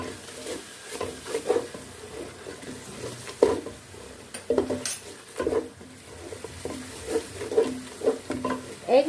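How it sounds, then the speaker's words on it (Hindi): Spices, turmeric and salt being stirred and fried in a pan for an okra qorma, with irregular scraping and clinking of a utensil against the pan over a steady low sizzle, no talk. "और इसको हम अच्छे से मिक्स करेंगे"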